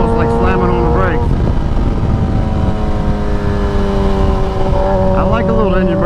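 A 1000cc super naked motorcycle engine with the throttle closed, a loud steady engine drone that drops slightly in pitch as it slows, with a person talking over it.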